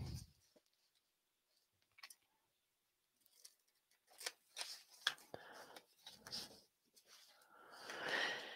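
Scissors trimming paper for a handmade journal page, a few soft snips and rustles spread through the second half, close and quiet after a mostly silent start.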